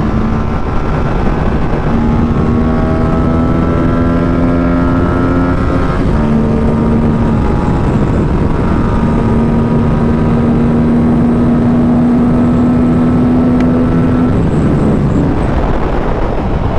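A parallel twin two-cylinder motorcycle engine drones steadily while riding, its tone rising and falling through gear changes, loud and near with wind noise and no speech.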